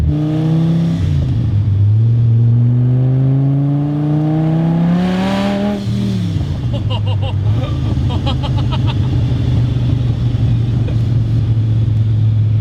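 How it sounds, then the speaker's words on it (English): An 850-horsepower boosted Dodge Viper with homemade carbon fiber bodywork revs loud and close. Its engine note climbs and falls through several throttle blips, then settles into a steady rumbling idle. "this is my first time driving a boosted Viper"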